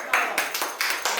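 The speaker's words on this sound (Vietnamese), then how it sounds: "Vỗ tay mọi người." A few people clap at a small gathering, a short run of distinct close claps in an uneven rhythm, about five or six hits over a second.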